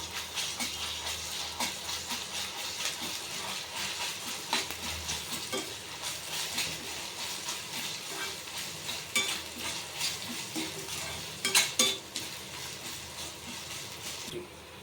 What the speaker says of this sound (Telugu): కాస్త అల్లం వెల్లుల్లిపాయ కూడా నూనెలో వేగాలి